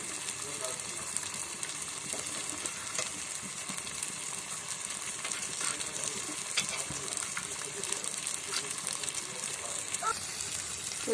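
Toor dal goes into a pan of cooked tomatoes and oil, giving a continuous sizzle and frying hiss with soft stirring scrapes, close and steady throughout.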